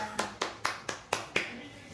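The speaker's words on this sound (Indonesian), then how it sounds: "Tepuk tangan untuk kita semuanya" Children in a classroom clap in unison, six sharp evenly spaced claps in a quick rhythmic pattern, moderately close and fairly quiet.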